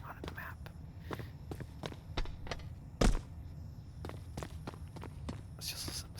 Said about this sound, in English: Let's just listen to some of the different footstep noises.